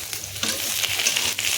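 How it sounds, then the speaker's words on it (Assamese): Potatoes and onions fry in oil with a loud, continuous sizzle up close, and a few soft stirring scrapes rise briefly above it. "তাৰপিছতে পিঁয়াজ দি আকৌ ভাজি আছোঁ।"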